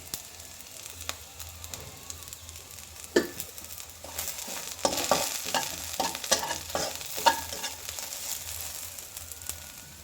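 Black cumin and whole cumin seeds crackle in a hot pan for a peanut mash, a soft continuous sizzle with spatula stirring scrapes growing busier midway.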